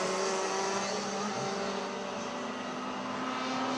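Race cars lapping the Chiangmai Circuit during a novice racing final, a continuous droning engine roar with steady whining tones, loud and sustained without pause.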